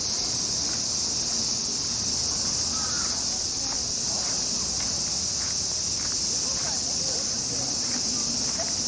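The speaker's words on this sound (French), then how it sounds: "nos amis les grillons" Steady, high-pitched cricket trilling fills the background outdoors in Tokyo, chirping continuously, with faint rustling and scattered soft sounds beneath.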